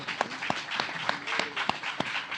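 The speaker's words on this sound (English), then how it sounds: "Round of applause." A crowd claps in a steady burst of applause, with a few sharper individual claps standing out and some faint voices underneath.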